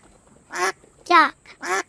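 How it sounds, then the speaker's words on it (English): Three separate duck quacks from a farmyard, loud and close, spaced about half a second apart with short quiet gaps between them. "Duck, duck,"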